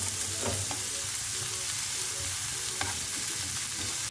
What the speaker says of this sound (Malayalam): ഇത് 1 മിനിറ്റ് ഒന്ന് വഴറ്റിയെടുക്കണം. ഇതിലേക്ക് പച്ചമുളക് കൂടി ഇട്ട് കൊടുക്കാം.